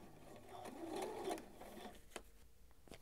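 A sewing machine stitches and back-stitches a curved crotch seam on men's boxers, a short soft whirring run followed by a few faint clicks, quiet and close.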